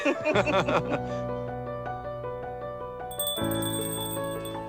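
A bright bell rings several times in quick succession, then leaves a sustained metallic tone with a higher chime near the end.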